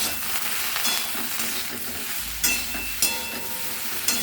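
Food frying in a pan is stirred, a continuous close sizzle and crackle with occasional scraping bursts from the spoon, loud and steady without any talking.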